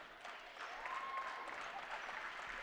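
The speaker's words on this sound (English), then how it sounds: "the home crowd comes to their feet" Home crowd at a high school girls basketball game cheering and applauding as the Wapakoneta Lady Redskins hold the ball to run out the clock, a steady, distant wash of clapping and cheers with a brief whistle-like tone.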